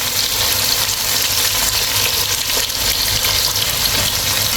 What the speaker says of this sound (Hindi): अब हम इसमें प्याज ऐड करेंगे। अच्छी तरीके से मिक्स करेंगे